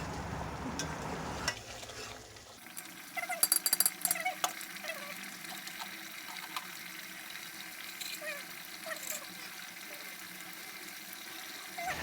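Green chilies being stirred into a simmering potato and egg curry, with soft scraping and bubbling at low level and a few light clinks, no talking.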